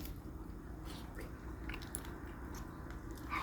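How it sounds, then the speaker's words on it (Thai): Someone eating freshly peeled golden pomelo, with soft wet biting and chewing sounds close to the mic over a low background hum, continuous and steady. "กำลังกินท่านผู้ชม"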